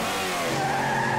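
A restored car's engine starts up and runs in a steady, loud, continuous roar for about a second, heard alone with no talking.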